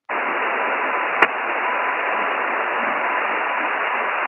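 Steady hiss of static fills an amateur radio band on 40 or 80 meters after a station fades out, continuous and even, with a single brief click near the start.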